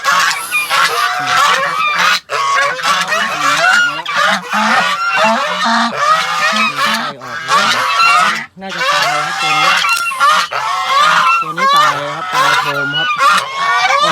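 Several geese honk loudly and continuously at close range on a farm, their calls overlapping in a raucous chorus with only brief pauses.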